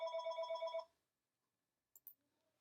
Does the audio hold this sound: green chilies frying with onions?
no